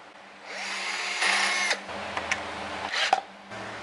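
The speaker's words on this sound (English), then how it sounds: "So these 2x2s, they tend to split. So we drill a pilot hole first." A power drill bores a pilot hole into a 2x2 wooden board for a chicken tractor frame, whirring loudly at close range for a few seconds with speed changes and brief pauses.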